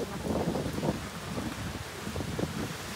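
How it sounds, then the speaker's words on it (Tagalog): Steady, gusty typhoon wind roars and buffets the microphone in a continuous rush of noise, with no voices heard. "Magulo ng hangin yan"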